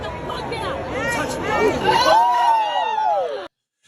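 A crowd in a played-back video reacts right after a woman slaps a man across the face, a loud surge of overlapping voices and shouts that swells, then cuts off abruptly.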